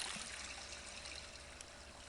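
A stream trickles beside a cold campsite in the morning, a faint, continuous watery rush with soft gurgles and no voices.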